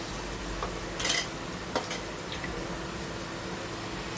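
Ground spice paste from the mixer goes into a hot frying pan of fish with fennel and is stirred, giving a soft steady sizzle with a few spoon scrapes and clinks against the pan.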